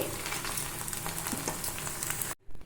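Sago and buttermilk fritters (punugulu) deep-frying in hot oil, a steady dense sizzle and crackle close by that runs continuously before cutting off abruptly near the end.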